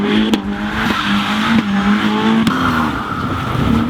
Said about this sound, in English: He's gonna do donuts in an all-wheel drive AMG and dry.